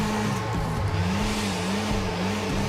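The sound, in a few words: car engine revving at full throttle in video game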